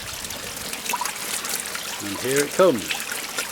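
Water from a garden pond vacuum trickles and splashes back into the pond outdoors, a soft steady flow heard close by while someone speaks briefly over it.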